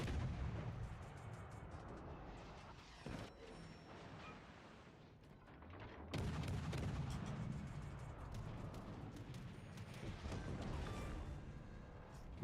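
Naval guns boom in a warship video game, with heavy artillery blasts and rumbling explosions rolling through a dense, noisy mix, including a loud burst of salvos midway.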